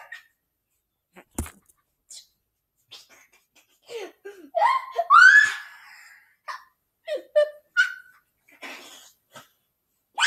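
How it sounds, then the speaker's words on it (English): A dog gives short growls, whimpers and moaning vocal bursts, loudest mid-clip, scattered between quiet gaps and close to the microphone. "I'm getting tired of your little growls."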